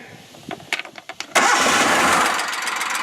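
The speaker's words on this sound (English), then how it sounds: "I revved it up a little bit, it's running good" After a mechanical repair, a Polaris Ranger UTV cranks with several short clicks and rattles, then catches and starts at about halfway, settling into a loud, steady idle nearby.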